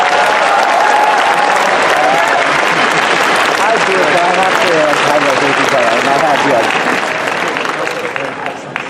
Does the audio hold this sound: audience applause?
yes